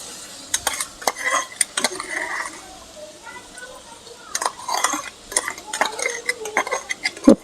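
Garlic paste is stirred into amaranth leaves frying in a pan over low heat: a spoon scrapes and clinks against the pan in irregular bursts over a soft sizzle, while someone talks.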